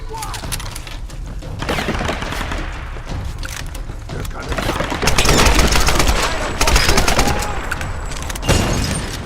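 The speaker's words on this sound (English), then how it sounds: "this section is definitely where the machine gun shines" Tomb Raider combat with bursts of machine gun fire and booming explosions, dense and loud throughout, rapid shots rising in intensity toward the end amid chaotic battle noise.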